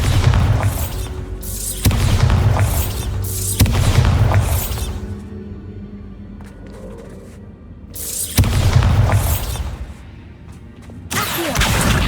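Bombarda spell blasts in the Hogwarts Legacy video game: a series of deep, booming explosions, several close together, each swelling loudly and decaying into rumble before the next hits.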